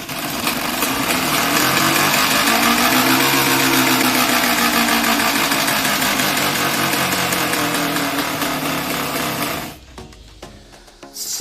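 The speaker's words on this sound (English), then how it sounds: "that is how you make your kiddie's bike sound like a motorbike" A loud, rapid flapping clatter of a plastic peg in a child's bicycle spokes buzzes steadily like a small motor engine for several seconds, then cuts off abruptly into quieter rattling.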